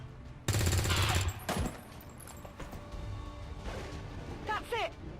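Soldiers firing weapons in the video game XCOM 2, a loud burst of automatic fire followed by a sharp crack, then quieter game effects and chirping tones as a voice speaks underneath.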